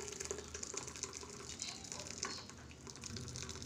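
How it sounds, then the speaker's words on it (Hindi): Water draining off boiled amla (Indian gooseberries) in a home kitchen, a steady close trickling and splashing that runs continuously and fairly quietly with no talk. "इसको कर दिया है हमने बंद, इसका पानी हटा देते हैं।"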